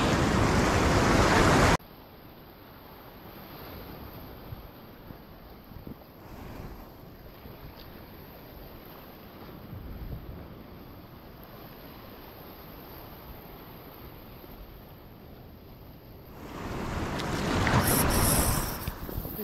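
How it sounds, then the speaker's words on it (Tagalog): Rough sea surf at a coastal fishing spot, a steady broadband wash of waves with wind buffeting the microphone, louder bursts at the start and end, no talking. "pag ganitong maalon, bago talaga ito nagkakalaman yung spot na to mga master."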